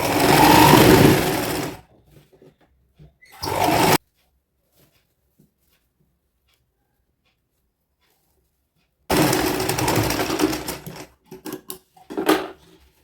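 A sewing machine stitches the folded bottom hem of a little girl's frock in short, loud, close bursts of rapid whirring, separated by a long silent gap and followed by brief fabric handling.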